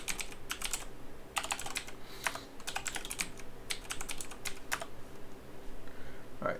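Quick clusters of clicky keystrokes on a computer keyboard, typed in short bursts with brief pauses between, close and fairly quiet over a low steady hum.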